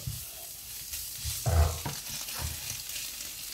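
A sautéed mix of pepper, onion, olive and garlic stirred in a pan, soft sizzling with a couple of brief scraping knocks from the spoon.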